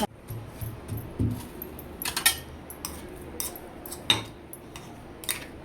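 A spoon clinks and scrapes against a bowl while peanut chutney is mixed with homemade onion-garlic masala, scattered light metallic taps and sharp clicks over a quiet background.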